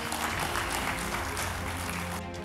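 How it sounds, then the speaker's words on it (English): Applause from a seated audience at a CEO summit in Ghana as the country's Vice President comes forward to present honors, a dense, steady wash of clapping heard throughout. "A round of applause as he comes."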